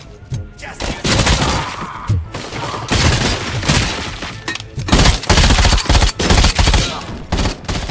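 Rapid futuristic gunfire from the video game Robocop Rogue City, loud bursts and repeated sharp shots with crashes and impacts crowding the whole stretch.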